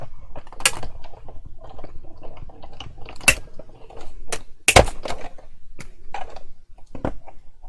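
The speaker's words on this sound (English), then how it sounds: "you'll be needing the small die cutting machine for this one" Small die cutting machine working through cardstock, a series of sharp clicks and creaky mechanical snaps spaced irregularly, close and fairly loud against a quiet background.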